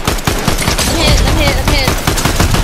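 Rapid automatic bursts of assault rifle fire in a Fortnite match, loud and close, running almost continuously through the moment with dense repeated cracks.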